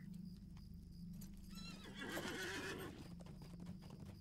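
Horse hooves clip-clop at a steady walking pace in the video game The Lord of the Rings Online, and partway through the horse whinnies loudly over a low background hum.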